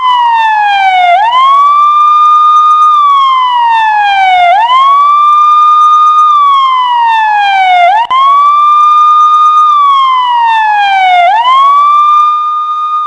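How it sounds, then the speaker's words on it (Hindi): Ambulance sirens wail in repeated rising and falling sweeps, loud and steady, with no pauses, heard during the rocket attacks in Pakistan. "पाकिस्तान में चारों तरफ एम्बुलेंस की आवाज और एम्बुलेंस के सायरन गूंज रहा था।"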